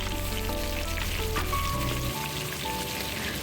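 Tomatoes hit hot oil with browned onions for chicken mince, giving a moderate rain-like sizzle and crackle under a low hum, steady with brief tonal clinks partway through.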